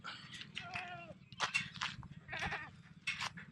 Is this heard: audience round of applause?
no